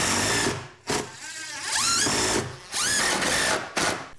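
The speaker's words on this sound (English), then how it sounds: "Now I can screw the plywood down." A power drill drives screws through plywood into a workbench shelf, with several short bursts of whirring motor rising and falling in pitch, separated by brief pauses, loud and close.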